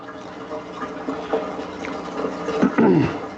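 Hot water flowing into a washing machine, a close running and gurgling stream that swells and splashes more strongly toward the end.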